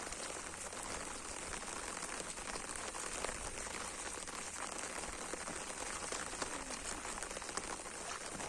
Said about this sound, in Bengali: বৃষ্টি জোরে হচ্ছিল।